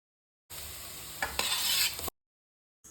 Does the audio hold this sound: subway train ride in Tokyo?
no